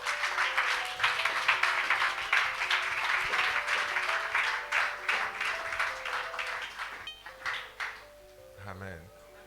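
A church congregation applauding during a sermon, sustained rhythmic clapping at moderate distance that gradually thins out, with a preacher's voice over it.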